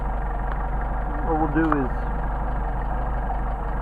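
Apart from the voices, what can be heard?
Mercedes 190SL engine idling with Solex carburetors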